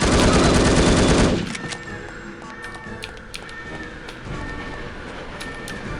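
Gunfire in the game No One Lives Forever: a loud dense burst of rapid shots for about a second, then fainter scattered shots and clicks under a steady background hum.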